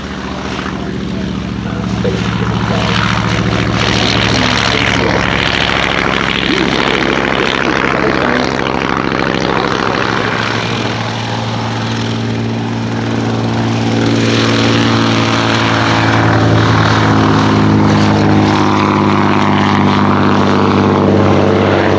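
Two vintage biplanes, a Hawker Tomtit and a Hawker Demon, drone loudly with piston engines and propellers at the Shuttleworth Wings and Wheels 2016 air show. The steady roar shifts in pitch as they pass nearby.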